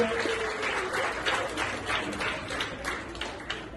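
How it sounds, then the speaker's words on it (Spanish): Church congregation applauding after a sermon, a dense, steady wash of clapping from many hands lasting a few seconds, moderately distant with no speech over it. "denle un aplauso al Señor"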